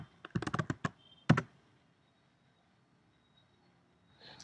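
Quick burst of clicky computer keyboard typing as a password is entered, about eight sharp keystrokes close together followed by a firmer final tap, then near silence.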